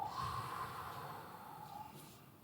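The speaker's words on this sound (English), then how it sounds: "let's all inhale and let it go" An audience at a live SXSW event exhales together in a breathing exercise, a soft collective rush of breath that fades out over a couple of seconds.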